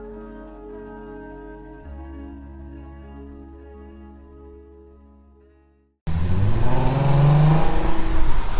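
An Audi A3 3.2 V6 car hums at low engine revs with a rising tone change, then after a brief near-silence its engine surges loudly and accelerates with strong, rising revs heard up close.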